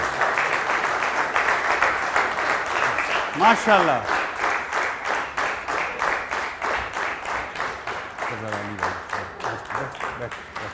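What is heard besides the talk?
audience applause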